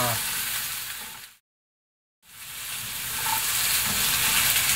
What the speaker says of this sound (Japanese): 人参とじゃがいもを加えます 軽く炒めます